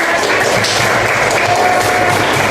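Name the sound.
audience applause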